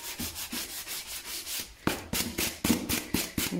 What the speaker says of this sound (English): get yourself a little sanding block, piece of sandpaper, and just start sanding away from